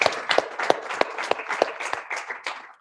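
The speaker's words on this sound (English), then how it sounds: "Round of applause there." A science-talk competition audience gives a short burst of applause, with a few loud, irregular claps at first that thin out and fade over about three seconds.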